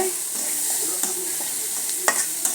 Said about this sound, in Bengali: এখন পেঁয়াজগুলো ভালো করে ভেজে নেব।